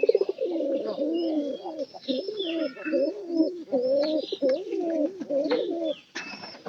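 Pigeons coo in a steady, unbroken run of low, throaty calls, close and fairly loud, with a few faint higher chirps above and no talking.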